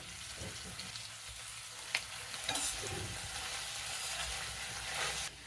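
Onion pieces and boiled potato chunks frying in a pan give a steady soft sizzle, with a few brief scraping stir sounds and clinks over the continuous hiss.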